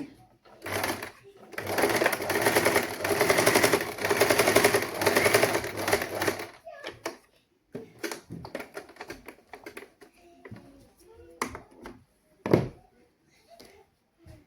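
A sewing machine stitches darts on a saree blouse, running in a loud rapid continuous burst for several seconds, then stopping, followed by quieter handling clicks and brief spoken remarks.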